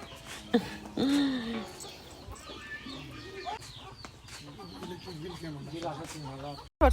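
A hen with her chicks in a Bangladeshi village clucks in short repeated bursts, with thin chick peeps around it, while people talk nearby.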